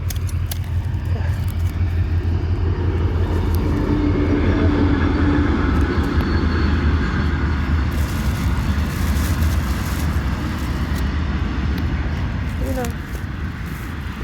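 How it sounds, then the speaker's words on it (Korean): A train rumbles past close by, a steady loud low roar with rattling that holds for most of the stretch and eases slightly near the end. "우리 동네는 열차도 지나가지, 고속도로도 지나가지, 일반 차도 지나가지."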